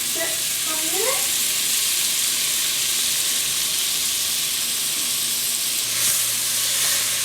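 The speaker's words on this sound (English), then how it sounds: "Our pan's hot now, and we're gonna add our 6 tablespoons of butter in there" Six tablespoons of butter sizzle and melt in a hot pan, a steady close crackling hiss that runs throughout, with faint clinks and background sounds near the start.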